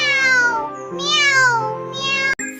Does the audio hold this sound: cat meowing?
yes